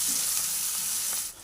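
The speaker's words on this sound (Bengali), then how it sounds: "পেঁয়াজটা একটু লাল লাল করে ভাজা হলে বাকি মশলাগুলো আমি দিয়ে দেবো।" Onions frying in a pan give a short burst of dense, close sizzling that fades slightly at the very end, with no talking.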